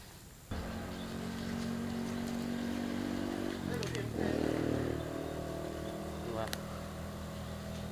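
A motorcycle engine revs in bursts by the Prachin River, idling steadily, then rising and falling in pitch several times. It is fairly close and loud, with brief background noise.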